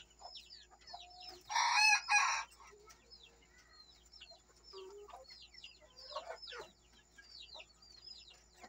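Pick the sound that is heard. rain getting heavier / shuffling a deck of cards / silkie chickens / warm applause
silkie chickens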